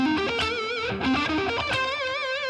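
Distorted electric guitar plays the first two bars of a lick from a cover in succession, a rapid run of picked notes settling into a long, singing sustained note with heavy vibrato.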